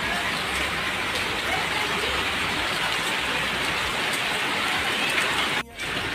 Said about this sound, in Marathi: बघा आमच्या नागपूरमध्ये किती पाऊस येत आहे